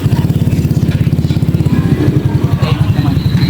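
A stock 150cc Honda Click scooter engine runs close and loud, with a rapid, even putter that holds steady throughout and a faint clatter on top.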